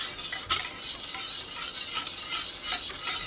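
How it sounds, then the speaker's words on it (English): Spoon scraping and swishing through a thickening white sauce in a pan for chicken or turkey pot pie, a steady close stirring with soft clinks against the pan and no talking. "we have to keep stirring this till it thickens"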